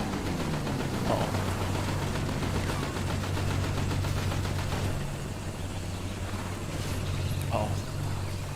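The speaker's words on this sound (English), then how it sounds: "He's trying to shoot me now." Bursts of rapid automatic gunfire in GTA V Online during the Cayo Perico heist, loud and rattling almost nonstop, with a low vehicle engine droning underneath and a voice talking over it.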